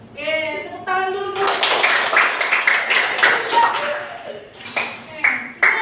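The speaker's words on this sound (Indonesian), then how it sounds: "Oke, tepuk tangan dulu." A class of children claps hands together on cue, a dense burst of applause mixed with young voices chanting and talking over it.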